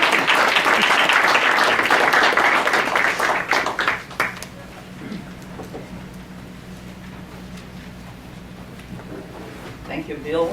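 Audience applause fills the hall for four seconds as speaker Maria Clara Bingemer is welcomed, then fades into quiet room tone with a few faint stray sounds.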